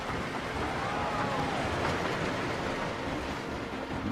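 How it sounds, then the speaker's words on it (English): A train rolls past in the Planet Coaster park game, a steady low rumble and hiss that holds at an even level throughout, with no talking over it. "I can hear a train."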